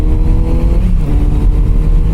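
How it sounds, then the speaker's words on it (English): Loud, close engine roar from a Kawasaki Z900 RS Cafe motorcycle on a road through Joshua Tree National Park, revving with fluctuating pitch as it downshifts, heard alone without talking. "This is Z900 RS Cafe, the Kawasaki. This thing rips it and rocks it. Let me shift down, you can listen."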